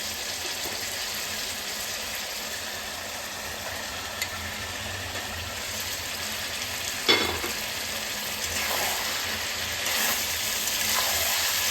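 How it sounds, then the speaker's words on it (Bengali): Potatoes sizzling and frying with chicken curry in a pan, a steady soft crackle throughout at moderate loudness, broken by a brief clink near the middle, with no voices. "আলুটাও খুব ভালো করে কষে নেব"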